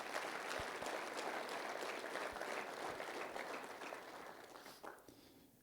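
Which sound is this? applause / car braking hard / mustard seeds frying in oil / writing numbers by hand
applause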